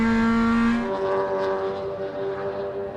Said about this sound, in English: Just listening in to the Viola car. We'll let you listen for a bit of a lap here at Sydney Motorsport Park.